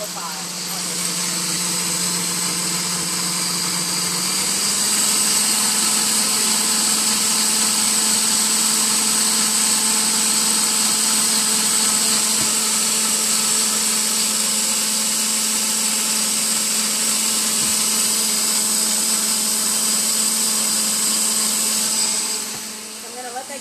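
A kitchen blender on its liquefy setting purees a morning matcha smoothie, running as a steady, loud, droning whir for about twenty seconds. It shifts up in pitch after a few seconds, then winds down at the end.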